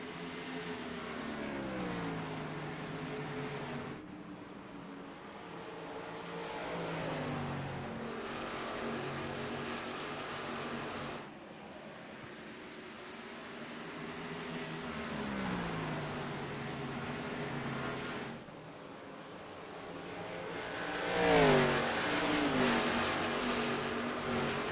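NASCAR Xfinity race cars at Phoenix Raceway in iRacing roar past in repeated waves, engines rising and falling in pitch as each pack sweeps by, with a louder close pass near the end.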